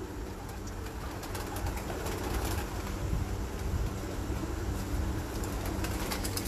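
Pigeons in a Faisalabad loft coo faintly in low, continuous murmurs against a steady background hum, with no one speaking.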